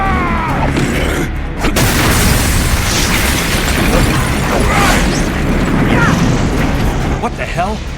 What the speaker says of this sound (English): That explosion came from the shower room.